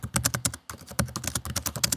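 Brisk typing on a laptop keyboard, close and fairly loud, with sharp clicky keystrokes in a quick continuous rhythm and one short break early on.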